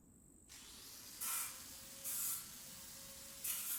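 Oil is sprayed onto a weapon in the video game The Infected: three short, airy hissing bursts over a quiet background, with a faint tonal hum between them.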